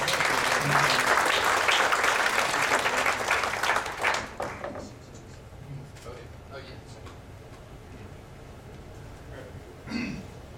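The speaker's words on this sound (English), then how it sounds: "Round of applause for John Hoover." Audience applause at a user group's ten-year anniversary presentation, loud and dense for about four seconds, then fading into scattered claps and murmuring with a brief burst of noise near the end.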